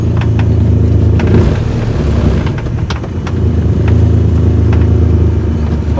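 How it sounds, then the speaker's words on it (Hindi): A Maruti 800 running on E20 petrol drives along a highway with a burst silencer, giving a loud, continuous raspy engine drone and exhaust rumble heard close from inside the car, with slight swells in level. "उसका साइलेंसर फट गया है, तो अभी थोड़ा अवॉइड करिएगा आप नॉइस को।"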